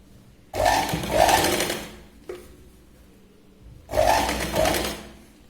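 Two short close bursts of sewing machine stitching run along Katori blouse fabric, separated by a quiet pause that holds a single mechanical click.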